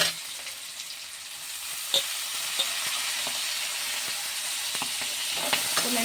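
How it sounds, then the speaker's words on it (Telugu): Ginger garlic paste and leafy greens fry in a pan, giving a steady broadband sizzle with a few sharp pops and spatters throughout, close and moderately loud, with no voices. "ఇందులోనే అల్లం వెల్లుల్లి పేస్ట్ కూడా వేసేస్తున్నాను"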